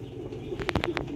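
Fakir gul pigeons coo softly at close range, a few low throaty murmurs with several brief bright chirps or wing sounds breaking in near the end.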